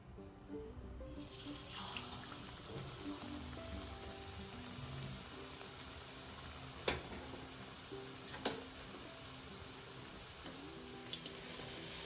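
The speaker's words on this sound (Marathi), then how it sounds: "इकडे आपलं तेल गरम झालंय, आता मी रोल सोडते" A battered onion bread cheese roll fries in hot oil in a home kitchen, a quiet, steady sizzle and bubbling with a few faint clinks and taps over a low hum.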